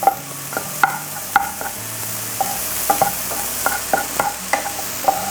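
Garlic, shallots, dried red chillies and curry leaves fry in a pan for a Kerala chicken curry, with a steady sizzle under repeated sharp clinks of a stirring spoon against the vessel.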